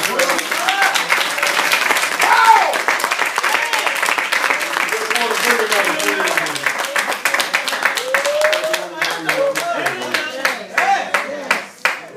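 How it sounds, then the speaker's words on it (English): A church congregation claps along, dense continuous hand clapping with shouts and voices mixed in, loud and close, thinning into scattered claps near the end. "Somebody give God a hand clap."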